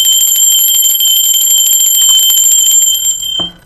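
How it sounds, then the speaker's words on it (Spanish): A bright metallic bell rings continuously and loudly with sustained high tones and a rapid trembling pulse, then stops abruptly with a short clunk at the end. "Va campana."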